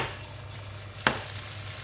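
Minced meat kofta mixture sautés in a pan with a steady, close sizzle and stirring, broken by one sharp utensil clink near the end.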